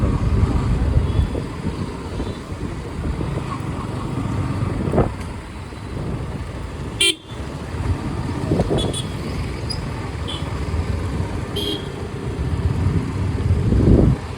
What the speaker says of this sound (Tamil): பயங்கரமான டிராஃபிக் ரோடு.